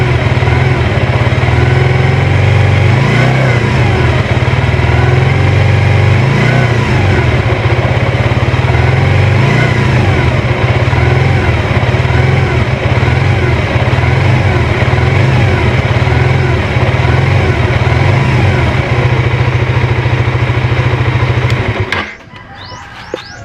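A Suzuki GSX-R150 motorcycle engine, after a fuel pump dynamo replacement, runs steadily around 2–3k RPM, a loud, close, even drone with no stumbling that stops abruptly near the end.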